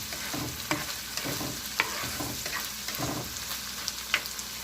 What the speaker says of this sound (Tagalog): Titingnan natin ang ating sinasangkot siyang giniling.